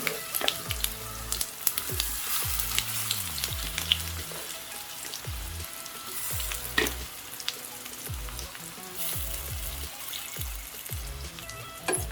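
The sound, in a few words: raw banana (vazhakkai) frying in oil with curry leaves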